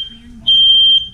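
A smoke alarm gives a single loud, shrill electronic beep lasting about half a second, heard close up after a brief quiet moment.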